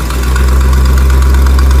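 Carbureted truck engine idling around 750 rpm during idle speed adjustment, a loud, steady low rumble with a faint exhaust-leak ticking, close up and without talk.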